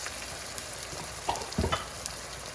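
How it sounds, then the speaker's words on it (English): Penne in a salmon and cream sauce is stirred in a pan, a soft sizzle running throughout with a few brief scrapes and clicks from the spoon. "And we mix."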